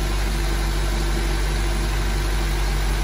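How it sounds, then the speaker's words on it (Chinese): A ninth-generation 2015 Honda Civic Si engine runs after repair with fresh coolant. It gives a loud, steady idle hum that stays unchanged throughout, with no voices. "再次打火着车试听一下发动机声音"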